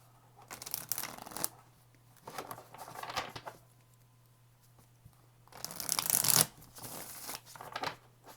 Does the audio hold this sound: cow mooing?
no